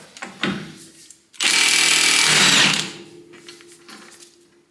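Impact tool whirs loudly for about a second and a half, spinning off an axle nut on an abandoned Honda Prelude, with softer short bursts and mechanical clatter before and after, close by.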